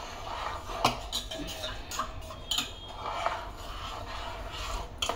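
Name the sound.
spoon stirring soup thickened with cornflour in a pot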